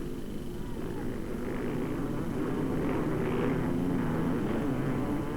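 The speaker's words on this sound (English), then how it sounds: "The start of the second heat, and the best start this time for the little German veteran Didi Lacher" A pack of 500cc motocross bikes roars off the line at the second heat of a 1997 race in Sweden, a steady, dense engine drone heard from a distance, rising slightly as the field pulls away.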